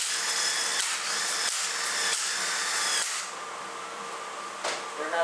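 A power tool tightens bolts on a 4R75E transmission during an overhaul, a close, bright whirring in several short, pulsing bursts, then a quieter steady spin with a final brief surge.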